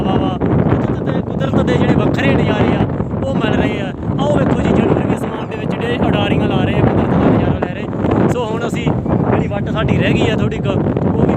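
A cool wind blows across open paddy fields and buffets the microphone with a steady roar. Someone talks continuously over it.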